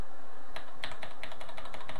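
Keystrokes on a computer keyboard clatter in a quick, uneven run of sharp clicks, close and fairly loud, with no one talking.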